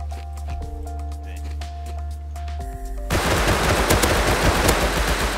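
In the survival game Rust, a calm stretch with steady tonal hums gives way to a loud burst of rapid, close gunfire that keeps going to the end, with a voice briefly audible underneath.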